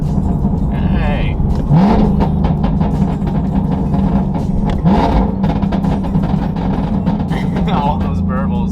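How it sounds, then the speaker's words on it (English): A car engine rises and falls through rev-matched downshifts on a highway exit, with burbling exhaust and steady road noise throughout as a person talks over it. "I wanted to show some rev matches"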